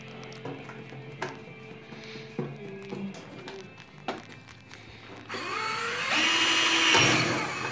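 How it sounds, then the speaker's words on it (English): A power drill whirs loudly near the end during the build of a Factory Five Daytona car kit, after several seconds of scattered clanks and workshop handling noises. "Thank God we had the Chinese drill."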